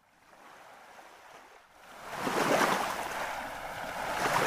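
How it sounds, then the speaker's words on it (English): Seaside ambience from the Noisli background sound app: soft, airy surf builds after a quieter opening into a louder wash of breaking waves, with a hint of wind, steady and unbroken. "Now I am moving to the next sound is a seaside."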